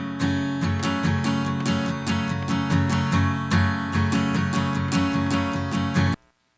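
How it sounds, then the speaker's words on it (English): Strummed acoustic guitar, bright and full, playing a steady rhythmic pattern of chords alone for several seconds before stopping abruptly. "Here I have an acoustic guitar"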